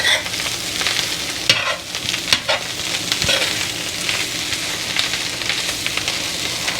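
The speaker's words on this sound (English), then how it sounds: "Break up the corn as you toss it up so it's evenly distributed throughout" Corn being tossed and broken up in a sizzling frying pan for a Baja chicken hash, a steady loud fry with scraping, stirring strokes and occasional knocks of the utensil against the pan.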